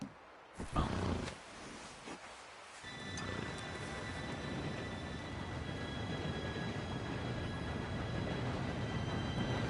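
Train rolling in during a Red Dead Redemption 2 game scene: a loud, steady rumble of wheels and cars that builds and holds after a few sharp opening clanks, with faint high whistle-like tones riding over it.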